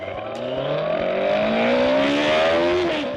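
A Benelli BN 600 R four-cylinder roadster engine revs smoothly and continuously, its rising whine climbing in pitch under steady acceleration, close and loud with a deep, hollow tone.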